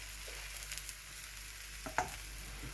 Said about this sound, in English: So now we can just flip that around and maybe leave it for another minute or so.